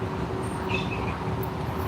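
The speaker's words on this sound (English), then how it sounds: "It's an empty train." A train ride heard from inside an empty carriage: a steady low rumble and rolling hum with a faint whine and light rattles, continuous and without talk.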